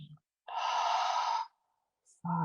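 A single long, breathy exhale during a yoga flow session, close and steady for about a second, bracketed by short bits of voice.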